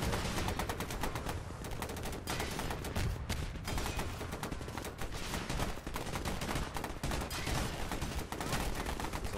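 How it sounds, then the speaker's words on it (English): Dense, continuous bursts of gunfire and explosive blasts from a video game boss battle against Hades rattle without pause, a loud chaotic barrage filling the whole stretch. "There's a lot of explosions going on."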